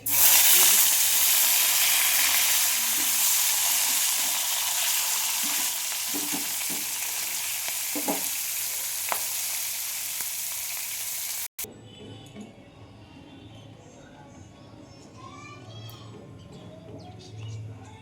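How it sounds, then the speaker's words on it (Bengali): Steady broadband sizzling of fish frying in hot oil, loud and close, then dropping to a quieter, softer sizzle after a brief clunk. "আমি এটাকে মাছটা ভেজে আপনাদের দেখাচ্ছি"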